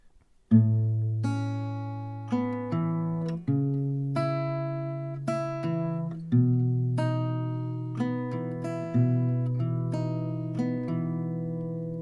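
Slow rolled acoustic guitar notes ring out one after another, clear and close, each chord arpeggiated and left to sustain, with no talking.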